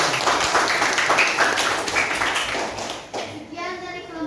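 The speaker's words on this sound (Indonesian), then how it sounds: "tepuk tangan dulu" A class claps for a group's kuda lumping presentation, a dense, steady patter of many hands over children's chatter that thins out toward the end.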